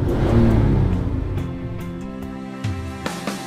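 A new sports car's engine revs in a few rising surges, loud and close, then settles over a steady background hum.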